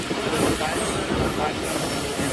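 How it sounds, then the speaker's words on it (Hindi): The 16 Down Karachi Express on the Lahore to Karachi route pulls into Pattoki railway station with a loud, steady rumble of wheels and faint squeals, heard from aboard the train with some talk underneath. "7:48 पे हमारी ट्रेन पहुंच रही है पतोकी रेलवे स्टेशन"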